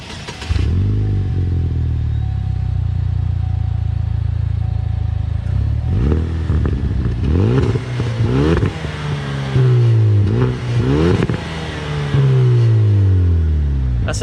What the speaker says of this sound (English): Do you want to give it a couple revs?